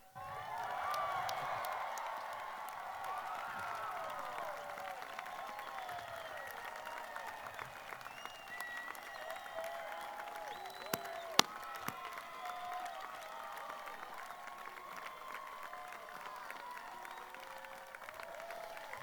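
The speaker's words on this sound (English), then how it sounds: "you scream and yell for your family that supported and loved you" A graduation ceremony crowd applauds and cheers in a large space, with sustained, fairly distant clapping and scattered shouts that carry on steadily for about twenty seconds.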